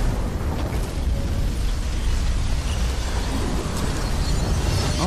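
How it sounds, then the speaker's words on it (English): Continuous loud explosion noise from the video game Killzone: Shadow Fall, a dense roaring blast that fills the clip without pause and with no clear separate bursts. "Explosions?"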